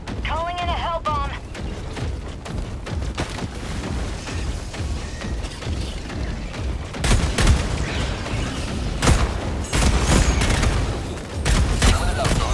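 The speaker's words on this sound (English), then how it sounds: "Calling in a hell bomb." Heavy gunfire and booming explosions in the video game Helldivers 2 around a Hellbomb call-in, dense and continuous with rattling bursts and deep blasts, while a voice speaks over the chaos.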